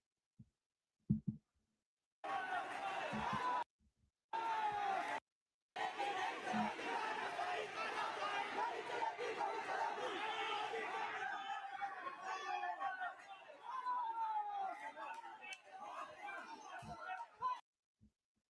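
Protesting crowd on a Delhi road, a dense roar of many voices shouting and chanting, loud and sustained with a few abrupt cuts early on, fading slightly toward the end.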